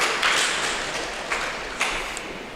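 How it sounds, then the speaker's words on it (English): An audience applauds panelists at a panel discussion on circular-economy fashion, with a steady wash of clapping hands throughout and a few sharper claps standing out. "applaud for our panelists"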